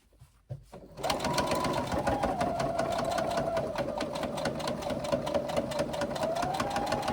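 A sewing machine stitches a padded tablet case seam, starting after a couple of faint clicks and then running in a fast, steady mechanical whir with rapid needle ticks close by, no talking.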